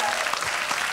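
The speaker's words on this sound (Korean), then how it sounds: "박수 한번 부탁드릴게요" A television studio audience claps steadily, a dense patter of applause filling the whole moment at moderate volume.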